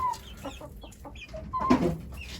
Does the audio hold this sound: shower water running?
no